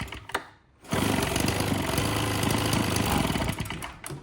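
A Husqvarna 130BT leaf blower fitted with an aftermarket carburetor idles in a close, steady two-stroke putter with a slightly uneven, rough beat, after a brief lull at the start.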